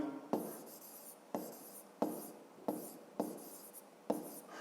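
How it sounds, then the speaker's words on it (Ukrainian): Handwriting during a fifth-grade maths lesson: five distinct scratchy pen strokes at a steady pace, each starting sharply and fading, close and moderately quiet with no talk. "Давайте це запишемо."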